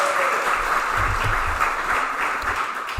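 Crowd applause for Hayley, a Green League winner at a spring league awards night, a dense steady clapping of many hands for about three seconds, moderately loud, with a little muffled chatter underneath.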